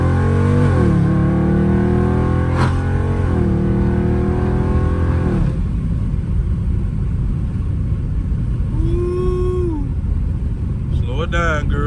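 Dodge Scat Pack car engine revving and downshifting, loud rising and falling engine pitch with sharp blips between gears, heard from inside the car under ongoing talk.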